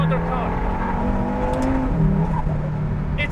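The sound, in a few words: KTM X-Bow GT-XR driven fast, braking and turning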